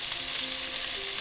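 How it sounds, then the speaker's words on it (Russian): Onions frying in a pan over high heat with red sweet pepper nearby, a steady close sizzle and crackle running alone without any voices. "лук не будет так жариться сильно на таком большом огне"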